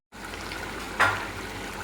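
Chili chicken cooking in a pan, a soft continuous sizzle with one brief sharper scrape or clink at the midpoint, close and without talk.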